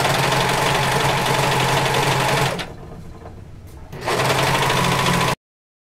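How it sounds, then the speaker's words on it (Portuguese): A sewing machine stitches elastic onto bikini lining in a rapid, loud, steady whir that stops briefly mid-run and then resumes before cutting off abruptly. "Faço uma costura ali segurando uma parte e depois eu vou esticar levemente esse elástico"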